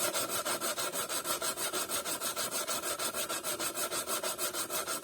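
A tool blade rubbed back and forth on 120 grit sandpaper, a steady rasping scrape repeating in an even rhythm of about four strokes per second, close and continuous with no talking.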